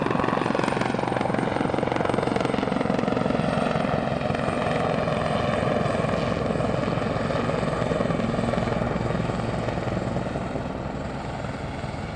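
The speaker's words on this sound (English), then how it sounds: "we got a helicopter here" A loud, steady helicopter drone with a fast rotor chop at Long Beach Airport runs throughout and eases slightly toward the end.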